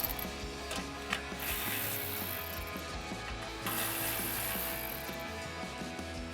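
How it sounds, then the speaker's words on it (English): A 13 mm socket ratchet clicks rapidly and continuously while removing bolts from the isolator above the axle of a Jeep Gladiator JT, close up with no voices. "we can use our 13 millimeter socket and remove these 2 bolts"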